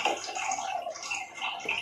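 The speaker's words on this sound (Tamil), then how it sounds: "அதில் இருக்க எக்ஸ்ட்ரா தண்ணியெல்லாம் அப்படியே வடிச்சுட்டு இதில் சேர்த்துப்போம்" Excess water drains off freshly churned butter made at home from cow's milk cream, a steady close splashing pour with trickling and light gurgles, no voices over it.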